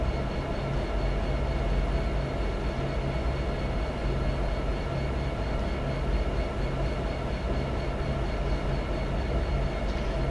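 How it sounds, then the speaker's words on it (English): A train rumbles steadily in the High Iron Simulations game, featuring GP60m and GP60b locomotives, a loud continuous roll with a faint repeating clack and no speech. "Well, we know there's a train coming."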